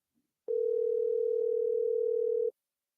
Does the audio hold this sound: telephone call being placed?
yes